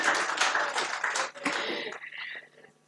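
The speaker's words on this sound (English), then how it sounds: "Then why aren't you clapping?" Conference audience clapping in a dense burst of applause that thins out and fades over a few seconds.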